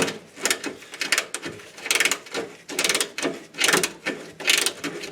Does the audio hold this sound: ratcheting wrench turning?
yes